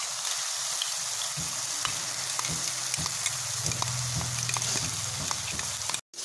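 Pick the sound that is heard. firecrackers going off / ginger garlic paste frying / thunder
ginger garlic paste frying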